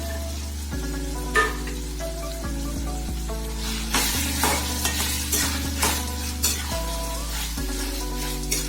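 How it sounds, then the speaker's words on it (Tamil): Turkey berries (sundakkai) sautéing in oil with dissolved tomato in a pan, a continuous close sizzle with rhythmic stirring scrapes, a low steady hum running underneath. "கொஞ்ச நேரம் நல்லா எண்ணெயிலேயே வதங்கட்டும்"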